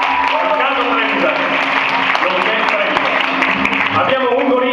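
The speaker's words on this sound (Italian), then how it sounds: "un applauso al clarinettista" Applause for a clarinettist at an outdoor song festival in a town square: a crowd claps dense and steady, with voices mixed into the clapping.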